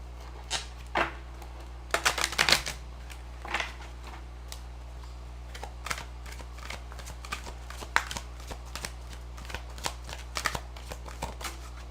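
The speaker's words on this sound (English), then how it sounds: "One more shuffle." Tarot cards are shuffled close up in a series of quick riffling bursts and soft flicks over a low steady hum.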